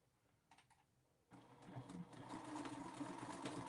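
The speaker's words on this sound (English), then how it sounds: "So I'm going to start back right here with a back stitch." Sewing machine back stitching through fabric for a scalloped quilted basket: a short burst of stitching, a pause, then a steady, continuous motor whir that grows louder and runs to the end.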